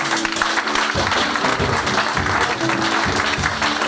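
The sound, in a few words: applause acclaiming the Lord at a church anniversary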